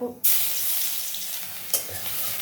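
Garlic dropped into hot oil already crackling with whole spices bursts into a loud, bright sizzle after a brief quiet start, holding steady with a second sharp flare near the end, close and with no talk.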